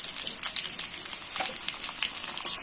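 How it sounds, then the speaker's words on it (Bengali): Potato pieces with salt and turmeric frying in hot oil while being stirred, a continuous bright sizzle with faint crackles throughout, close up and without speech. "আলুগুলো ভালো করে নাড়াচাড়া করে ভালো করে ভেজে নেব।"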